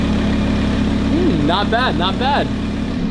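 A Lamborghini engine runs with its exhaust valves opened, giving a steady low rumble throughout while someone talks briefly over it.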